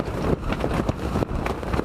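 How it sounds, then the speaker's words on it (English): Strong wind gusting in a blizzard out on the ice while ice fishing, a loud continuous roar buffeting the microphone with surging, uneven gusts. "That's like gusting big time."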